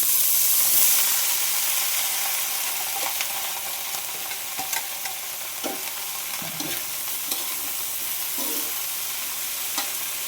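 Eggplant sizzles and fries in a hot pan for an adobong talong with spicy sardines, a loud, steady hiss with occasional stirring scrapes and pops breaking through at irregular moments.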